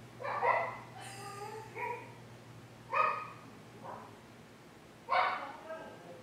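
Dogs, a husky and a small pug, bark and yelp in short bursts, roughly four separate outbursts of harmonic yips and whines over a steady low hum, fairly close and moderately loud.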